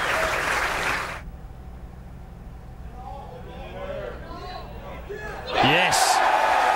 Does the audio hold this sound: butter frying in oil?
no